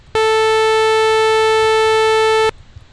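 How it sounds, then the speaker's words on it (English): A bright, raspy synthesized sawtooth tone starts suddenly, sustains evenly at a single pitch for over two seconds, then stops dead. "and then a sawtooth wave sounds like this."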